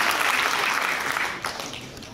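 Brief burst of audience applause at a French debate event, loud and dense at first and tapering slightly toward the end.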